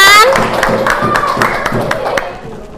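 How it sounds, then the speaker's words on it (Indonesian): Class of schoolchildren clapping hands, a string of sharp, separate claps in an uneven rhythm, close and fairly loud, with children's voices and chatter mixed in and fading toward the end. "tepuk tangan."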